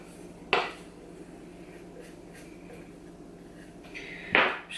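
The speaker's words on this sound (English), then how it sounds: "I always get my spatula and I scrape every little" A spatula in a bowl of vanilla cupcake batter, heard as two short, bright clinks of the utensil against the bowl a few seconds apart over a quiet kitchen background.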